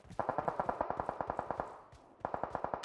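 Rapid automatic gunfire in PUBG Mobile rings out in two close, loud bursts of evenly spaced shots, with a brief pause between them.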